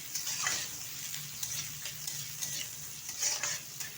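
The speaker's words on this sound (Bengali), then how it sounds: "তেলটা গরম হয়ে গেছে, তেলের মধ্যে দিয়ে দিচ্ছি কুচিয়ে রাখা খুব ছোট সাইজের একটা পেঁয়াজ" Finely chopped onion in hot oil, a soft, quiet sizzle broken by intermittent stirring scrapes, close by.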